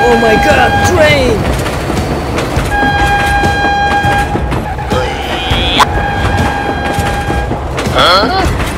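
A train rumbles past nearby, loud and steady throughout, with long tonal horn blasts sounding several times over the continuous rolling clatter of the wagons.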